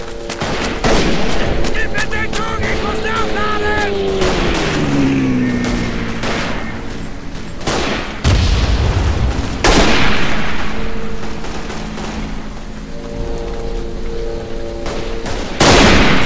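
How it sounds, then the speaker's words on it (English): Machine gun fire in the World War I shooter Verdun on the Flanders map crackles in dense, rapid bursts with scattered louder single shots and heavy booms, mixed with a rain-like patter throughout. "Oh, that's this machine gunner shooting."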